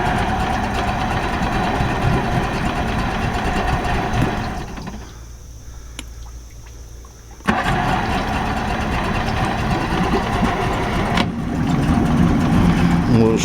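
2004 Mercury 60 hp outboard engine running loud and close, cutting out for a few seconds of near silence when the ignition is switched off, then firing back up and running steadily again.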